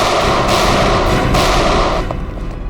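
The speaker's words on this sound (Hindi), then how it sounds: "Firing range." Loud, dense gunfire at a firing range rolls on as a continuous roar of overlapping shots, easing slightly in the last moments.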